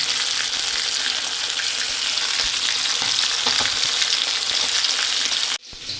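Spiced fish fries in hot oil, a dense, steady crackling sizzle that fills the clip without talk, then drops sharply near the end as the fish is lifted out.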